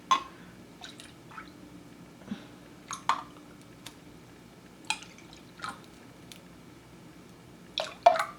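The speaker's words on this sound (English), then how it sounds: "Okay, so I poured half of the evaporated milk." Evaporated milk poured from a freshly opened can while making horchata, heard as scattered soft drips and small liquid splashes with quiet gaps between them, close and fairly faint.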